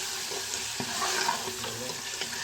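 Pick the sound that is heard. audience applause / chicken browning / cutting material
chicken browning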